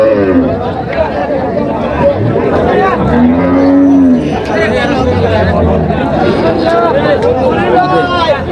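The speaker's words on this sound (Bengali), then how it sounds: "গাভী বাছুর আমরা দেখছিলাম এখানে" Cows and calves moo repeatedly at a cattle market, long low calls from cows and higher bleats from calves, over a steady background of crowd chatter.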